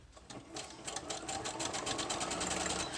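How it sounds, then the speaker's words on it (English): A sewing machine stitches through packing paper for a journal, its needle chattering in a rapid, even rhythm that starts up and runs steadily close by. "And I'm sewing once, and then I'm going to sew it again."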